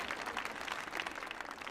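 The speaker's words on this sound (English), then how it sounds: "Give me some more applause." A concert audience at a jazz performance claps in a dense, steady round of applause, heard from some distance and fairly quiet, without talk.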